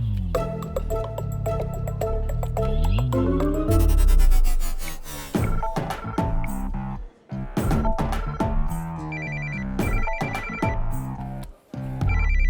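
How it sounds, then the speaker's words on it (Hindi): A melodic ringtone plays loudly with busy electronic music, repeating trilling phone-ring tones near the end, alone without talk. "किसका फोन है?"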